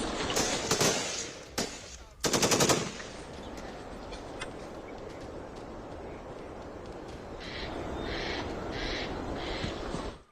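Gunfire from Pakistani soldiers along the border near Nowshera, Sunderbani and Akhnoor: sharp, loud cracks and short bursts at the start, then a quieter rhythmic string of distant bursts over a steady background hiss.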